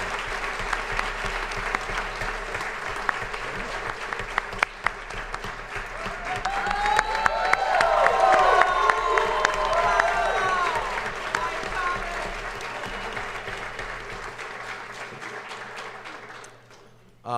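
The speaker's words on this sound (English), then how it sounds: "We could all give them a round of applause." Sustained audience applause at a 2019 John Carroll University graduation ceremony, steady clapping from a large crowd that swells in the middle and fades toward the end, with some voices mixed in.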